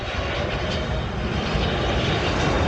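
An airplane passes overhead with a loud, steady engine roar that fills the whole short stretch without letup, no voices.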